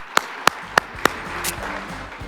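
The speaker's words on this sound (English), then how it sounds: "Round of applause, please" Applause for Josh and Graham, honoured as outstanding truck drivers: four sharp, evenly spaced claps ring out close by, then fade into a low, quiet murmur of the room.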